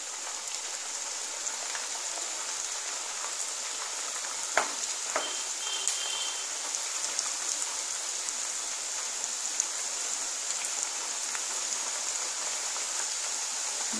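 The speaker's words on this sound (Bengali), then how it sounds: "এবারে কড়াইয়ে তেল বসাবো, বসিয়ে এটাকে ভাজবো।" Nimki pastry fries in hot oil in a wok over a low gas flame, with a constant fine crackling sizzle. A couple of faint utensil clinks sound near the middle.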